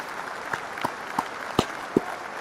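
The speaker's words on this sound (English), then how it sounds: "let me clap it up for Nancy losing that weight" A few separate claps ring out at an even, unhurried rhythm, about five sharp hits spaced roughly a third of a second apart, set against a quiet room during a relationship talk show.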